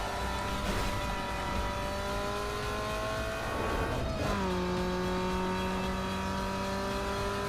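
Race car engine in NFS Underground 2 holding a steady high drone, then dipping and shifting pitch as the car corners in third gear, continuous and loud with a rising whine afterward, no talk.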